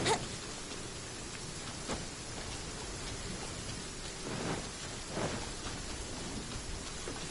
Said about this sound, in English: random lightning